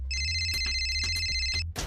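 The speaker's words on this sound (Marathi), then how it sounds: "हे बघ सौमित्राचा फोन" A mobile phone ringtone plays loud and close, a bright repeating electronic melody in quick pulses that lasts almost two seconds and then cuts off abruptly.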